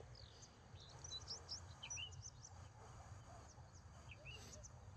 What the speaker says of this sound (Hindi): यहाँ पे चिड़ियों की और पानी की आवाज़ कितनी मस्त आती है